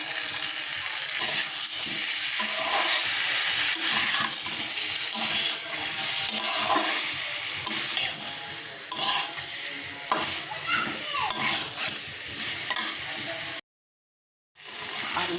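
Potatoes with spices frying in a pan give a steady close sizzle with stirring and scraping throughout, broken by a brief silence near the end.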